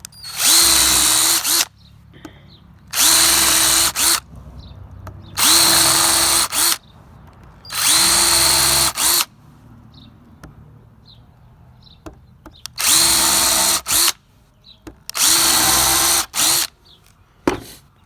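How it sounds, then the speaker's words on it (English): A power drill drives screws into wooden board and batten shutters in six loud close bursts of whirring, each lasting about a second or two, separated by quiet pauses, with no talk. "I just put all my screws right inside of each one of these holes just to kind of speed up the process"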